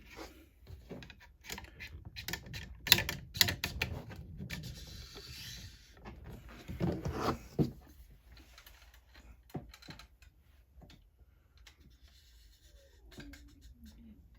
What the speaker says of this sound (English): Insert the rod through the breech of the rifle.